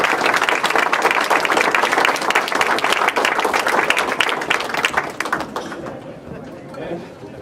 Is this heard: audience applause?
yes